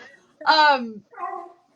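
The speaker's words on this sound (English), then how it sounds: "Sorry, my dog's barking over here." Two short, harmonic dog vocalizations close by, a bark-like yelp followed by a softer whine-like call, with quiet gaps around them.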